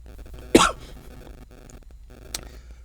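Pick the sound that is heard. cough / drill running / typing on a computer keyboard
cough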